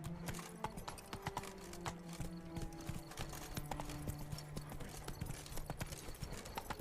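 Hooves of Roach, a horse in The Witcher 3, clip-clop in a steady trotting rhythm close by, with faint music and ambient tones underneath.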